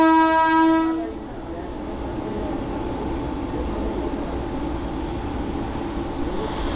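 Digha Rath Yatra special passenger train at Raghunathbari station: a loud horn blast opens, then cuts off after about a second into the steady rumble and rattle of the train running through the station.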